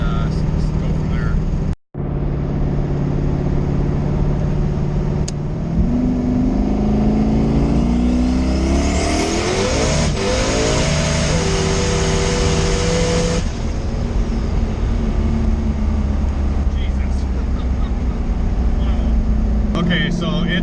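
A Chevstang drag car accelerates hard through a pull, its engine rising steadily in pitch and roaring loudly up close, with a brief cut near the start and a gear change midway, while someone talks over it.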